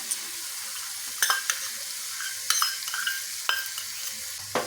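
Peas frying in a pan with crushed kasuri methi and whisked milk cream give a steady hiss, with several sharp spoon-on-pan scrapes and stirs scattered through it.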